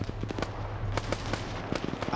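MG3 machine gun firing sustained bursts in the video game High Command, a steady rapid rattle of shots at moderate distance, fairly faint, with a low engine-like hum underneath.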